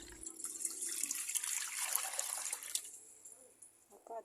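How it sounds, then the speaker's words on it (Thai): Water is poured into a pot on a lit stove to steam food parcels of egg and enoki mushroom, a continuous splashing pour that fades after a few seconds, followed by faint clinks. "นางก็เทน้ำลงไปนะคะ"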